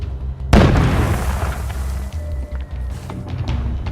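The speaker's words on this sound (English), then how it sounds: "Grenade!" A grenade blowing up in the video game We Happy Few, one sudden loud boom that rolls off into a rumbling tail with faint debris clatter.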